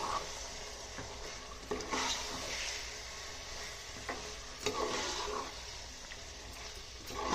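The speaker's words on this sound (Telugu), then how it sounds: "ఇప్పుడు చికెన్ యాడ్ చేసేస్తున్నా. శుభ్రంగా మిక్స్ చేసుకోవాలండి." Chicken being stirred into a pot of Dindigul thalapakatti-style biryani, with repeated scraping and clanking strokes against the pot over a constant sizzling hiss.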